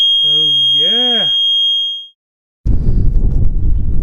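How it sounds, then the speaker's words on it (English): A shrill, steady high-pitched buzzer on a boat signals the bilge pump running, sounding for about two seconds while a voice rises under it, then cuts off before a burst of wind rumble. "I installed a buzzer, so now when the bilge pump goes off"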